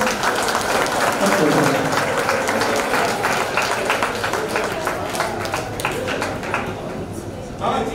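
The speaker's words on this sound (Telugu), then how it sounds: "ఒకసారి అందరూ క్లాస్ కొట్టండి" Audience at a Boys High School batch get-together in Sompeta applauding, a dense, steady wash of many hands clapping close by for several seconds, with voices mixed into the crowd noise.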